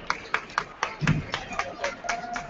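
Clapping for a six-man pep band at a high school boys basketball game, a loose rhythmic patter of hands in a gym with a voice talking over it.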